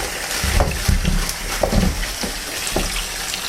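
Whole sweet potatoes tossed into a washing bowl and rinsed, with close splashing and running water in uneven bursts, loud and alone.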